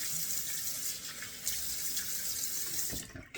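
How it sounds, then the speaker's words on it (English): Cold water running steadily from a barbershop sink tap, a continuous bright hiss with splashing as it is cupped, loud and close with no talking. "let me splash on that cold water now"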